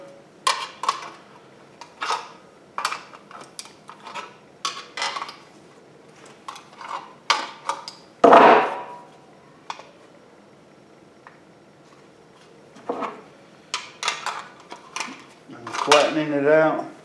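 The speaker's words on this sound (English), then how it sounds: "So I just keep bending all the tabs over." Thin metal tabs on a tin can are bent over by hand while building a survival stove, making a series of sharp, close metallic clicks and crinkles in irregular bursts, with a louder scraping crunch midway and another cluster near the end.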